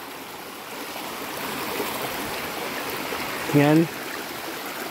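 Baol Falls, a waterfall with its stream, gives a steady broadband rush of flowing water close by. Someone speaks briefly over it.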